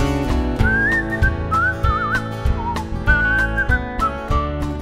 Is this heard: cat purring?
no